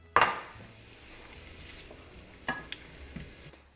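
Butter, onions and shallots cooking in a hot pan, a soft sizzle under a sharp clink of utensil on pan at the start and a few more knocks and scrapes later, close and quiet.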